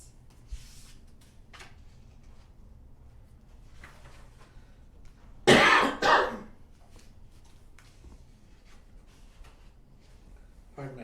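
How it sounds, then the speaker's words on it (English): A short burst of two harsh coughs close to the listener during a board meeting, rising out of a quiet room with faint background noise. "Pardon my coughing"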